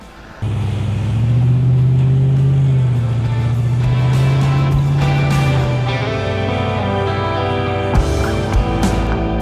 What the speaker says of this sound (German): ich habe von Supersport 2 Endschalldämpfer in Dieseloptik, damit man hört